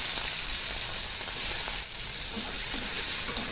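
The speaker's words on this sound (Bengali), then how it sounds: "চিংড়ি মাছগুলো ভেজে নেব।" Prawns frying in hot oil seasoned with turmeric and salt in a wok give off a loud, continuous, close hissing sizzle that barely dips, with no voices over it.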